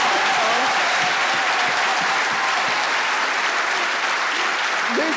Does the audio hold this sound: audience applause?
yes